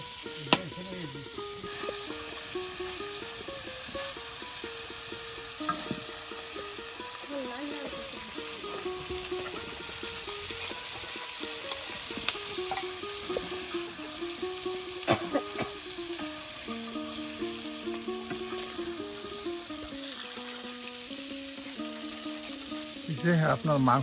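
Rooster meat fries and is stirred in a pan, with a continuous sizzle and occasional scraping knocks, while sustained tonal sounds run over it for the whole stretch.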